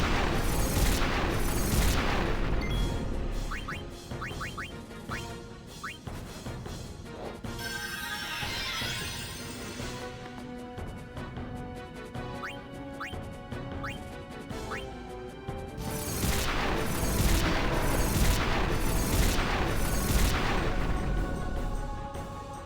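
Repeated Fire Gem attack explosions in the battle against Ultima Weapon in Final Fantasy X give booming, crashing blasts in clusters over game music, with a quieter patch in the middle before a heavy final run of detonations.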